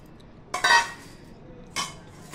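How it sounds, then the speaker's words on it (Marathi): Coarsely ground peanuts are scraped into a metal vessel in two short clinking, rattling bursts separated by a quiet pause, with no talking. "ते आपण एका भांड्यामध्ये आता काढून घेऊया।"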